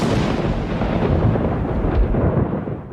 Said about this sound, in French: Le soir du mariage, un orage éclate.